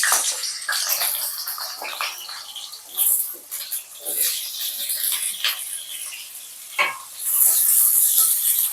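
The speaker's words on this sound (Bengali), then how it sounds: "তেল গরম হয়ে গেছে, এবার কেটে রাখা আলুগুলোকে এই তেলের মধ্যে ছেড়ে দেব।" Sliced potatoes dropped into hot mustard oil in a kadai, giving a bright crackling sizzle with bursts of spattering and stirring scrapes, close and fairly loud, with no talk.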